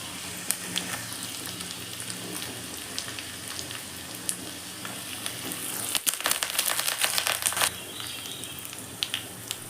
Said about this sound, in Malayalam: ചക്കക്കുരുവൊക്കെ പതുക്കെ ഒന്ന് തിള വന്നതിന് ശേഷം ദാ കടുക് പൊട്ടിക്കുക